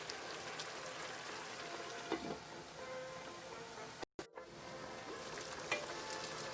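Mushrooms frying in a pan, a steady soft sizzle with faint crackles and pops throughout, briefly dropping out for a moment.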